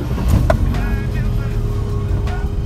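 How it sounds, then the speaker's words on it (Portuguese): A Fiat Uno 1.6R MPI engine idles and rumbles close by, a loud, steady low-pitched hum with a brief rev, while voices talk over it. "Vamos dar um rolezinho de Uno"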